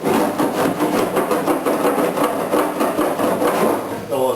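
A large wood rasp scrapes back and forth over a seam fillet to knock down burrs, producing loud, close, rhythmic rasping strokes in a steady repeating pattern.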